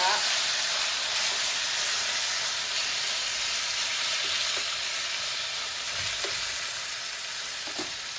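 Steady, loud sizzling and crackling of chicken frying in hot oil for chow mein, a continuous bright hiss with occasional pops throughout.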